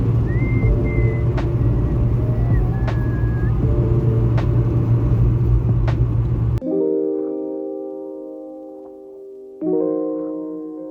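A Toyota Celica GTS cruises slowly down an empty road, its steady engine rumble and road noise continuous and fairly loud, then cutting out abruptly near the end, followed by quieter tonal hums.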